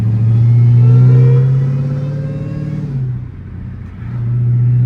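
A 1000hp Dodge Demon 170 Charger with no hood revs hard, a loud, deep engine roar that holds, drops away briefly around the middle, then surges back up, close and alone without talking.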